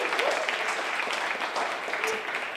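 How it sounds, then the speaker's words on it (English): A crowd at a Seattle affordable housing rally applauds Tay, an even patter of clapping at moderate volume that carries steadily through with some scattered voices. "I just want another round of applause for Tay"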